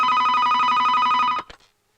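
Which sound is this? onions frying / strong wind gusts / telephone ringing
telephone ringing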